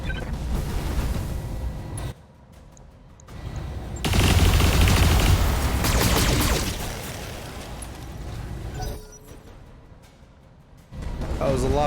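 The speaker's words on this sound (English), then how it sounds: "That was a lot of bullets." Heavy gunfire from a mech combat video game, many bullets fired in long sustained bursts that swell loudly, drop away briefly, then resume, mixed with mechanical rumble and booms.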